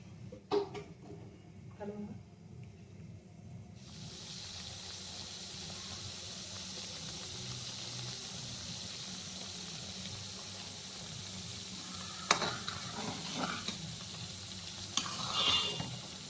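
Milk cream bubbles and sizzles in a pan as it cooks down into homemade ghee. After a few opening clicks and taps, a steady soft frying hiss sets in and continues, with occasional stirring scrapes near the end.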